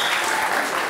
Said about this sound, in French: On peut applaudir le président.